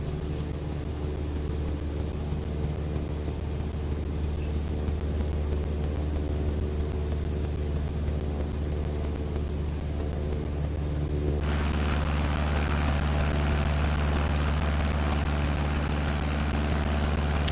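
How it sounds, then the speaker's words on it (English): Steady, droning propeller engine of a small plane in flight in Microsoft Flight Simulator, a continuous loud hum whose tone brightens and shifts partway through as the engine pitch changes, with no voices. "With this plane in particular, I think you're better off just listening for a change in the pitch of the engine."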